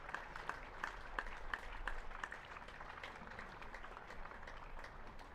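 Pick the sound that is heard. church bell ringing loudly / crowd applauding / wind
crowd applauding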